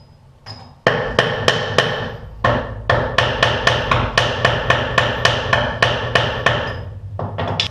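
Hammer whacking a seized castle nut on a 1967 VW Bus: a long run of sharp metallic strikes, close and loud, at a fairly quick steady rhythm with a brief pause partway through.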